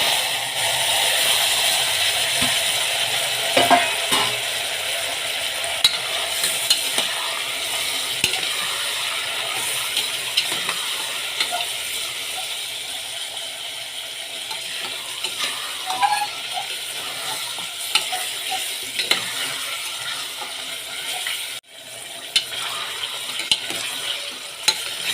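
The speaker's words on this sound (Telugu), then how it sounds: "కొంచెం సేపు ఈ మటన్ని నేను ఈ ఆయిల్లోనే ఫ్రై చేస్తాను." Masala mutton fries in oil inside a pressure cooker, giving a continuous loud sizzle with scraping and clinking as it is stirred, close up and without talk.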